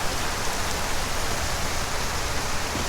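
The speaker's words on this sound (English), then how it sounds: "This rain is wonderful." Steady rain falls in the Skyrim video game, a dense, even hiss of drops with no talking, loud and continuous.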